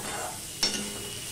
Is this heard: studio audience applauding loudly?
no